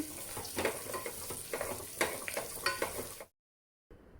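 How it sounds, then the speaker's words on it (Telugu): Green chillies and onion fry in a pressure cooker for vegetable biryani, crackling and sizzling up close under a run of rhythmic stirring scrapes. The sound cuts to near silence, then returns faintly. "పచ్చిమిర్చి వేసానండి తర్వాత ఆనియన్ వేసాను కాస్త వేగనివ్వండి"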